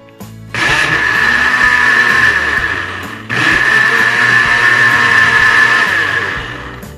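An electric blender mixes flour for kambudi pastry dough, running loud and steady with a high whine. It runs in two bursts with a brief pause between them, and no voices are heard.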